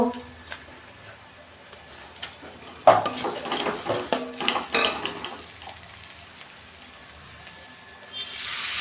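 Spice masala with ground cumin and Kashmiri chilli powder is stirred and sautéed in a pan for an egg dish, metal utensil scraping and clinking over soft frying, then a louder sizzling rush as a little water hits the pan.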